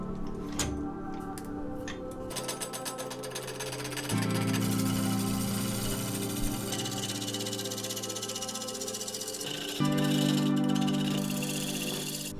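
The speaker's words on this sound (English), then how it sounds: "I'll bring this over to the lathe now." A lathe runs in a workshop, giving a steady mechanical whir with a rapid ticking rattle. Its pitch and loudness step up twice, and nobody speaks.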